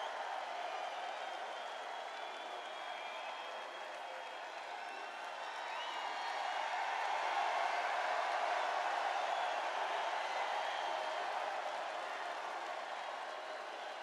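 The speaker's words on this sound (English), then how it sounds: "The people can hear the crowd" Applause and cheering from a campaign rally crowd at an arena in Manchester, New Hampshire, a steady, distant wash of clapping and crowd noise that swells in the middle and holds throughout, with no talk over it.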